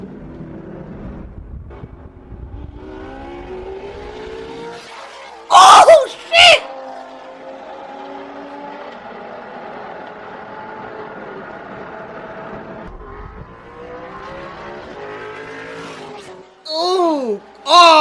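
Several cars street racing with a red Corvette among them, engines revving and passing loudly in bursts with a sustained roar between, while excited voices shout and talk close by.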